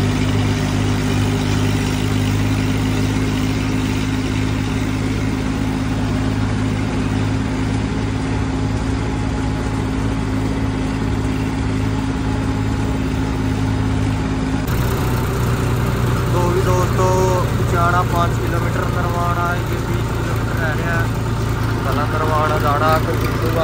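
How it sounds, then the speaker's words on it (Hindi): Tractor engine running steadily while hauling paddy to market before dawn, a loud, continuous low rumble with an abrupt shift in tone midway, and someone talking over it for much of the time. "दोस्तों बड़ा ट्रैक्टर तो लै दिया आगे,"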